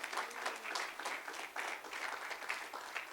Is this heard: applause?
yes